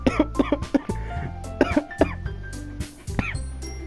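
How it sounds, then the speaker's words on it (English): A person coughs repeatedly in short, close harsh bursts in quick clusters, with throat clearing between them and a few faint clinks in the background. "I don't know why, but cough just came over me."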